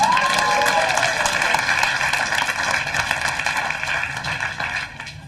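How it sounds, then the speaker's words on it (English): A stand-up comedy club crowd applauds a man the comedian has just introduced, sustained steady clapping with a brief voice near the start, fading slightly at the end. "Give him a round of applause."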